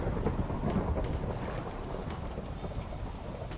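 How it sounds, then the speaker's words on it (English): Thunderstorm inside the Minecraft video game, heard as a steady, loud wash of rain and low rumbling thunder that fills the whole stretch without a break. "Nice lightning storm."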